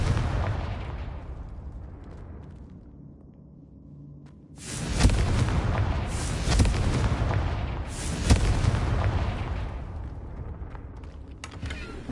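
A Confringo fire spell explosion in Hogwarts Legacy, heard as a loud burst that erupts after several seconds of quieter ambience, followed by rolling, crackling booms that swell and fade over the rest of the clip.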